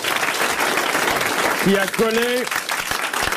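Studio audience applause on a 1985 French television talk show, a dense steady wash of clapping that fills the whole stretch while someone talks over it.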